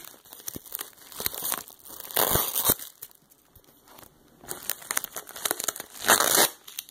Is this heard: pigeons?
no